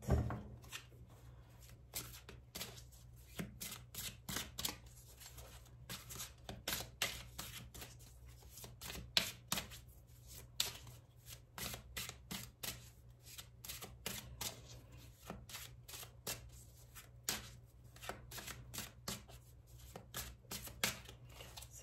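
A deck of cards is shuffled for a card draw in a long run of close, crisp riffles and flicks, with bursts of quick snaps separated by brief pauses, fairly quiet overall.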